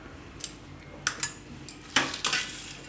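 A spoon clinks and scrapes a few times in a pot while spiced chili filling with salt, turmeric, coriander-cumin powder and oil is mixed, quiet scattered taps and scrapes with short pauses.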